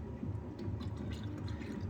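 Coolant mix of half antifreeze and half distilled water poured into the overflow reservoir of a 2001 Chevrolet Silverado, a steady low liquid gurgle with faint drips, continuous and close for under two seconds.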